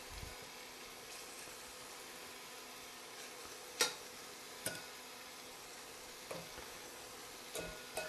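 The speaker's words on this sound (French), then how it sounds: "Je vais faire griller les cubes de porc." Steady low sizzle of pork cubes frying in a pan, with a few sharp clinks of utensils against the pan at intervals.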